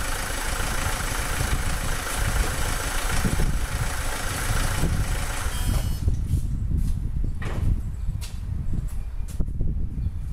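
A Renault car engine with an injection warning fault idles with a low, steady rumble, a broad hiss over it for the first half that then falls away, leaving the engine and scattered clicks.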